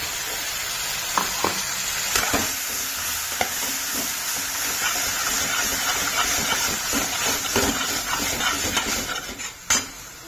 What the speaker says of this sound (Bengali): আমি এটাকে ভালো করে কষাতে শুরু করে দিয়েছি।